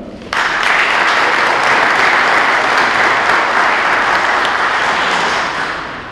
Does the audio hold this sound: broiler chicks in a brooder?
no